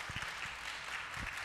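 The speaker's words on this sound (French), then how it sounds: "Il va encore s'applaudir." A live studio audience at a youth politics show breaks into applause, a brief patch of steady group clapping heard at moderate distance, with a few sharper individual claps standing out.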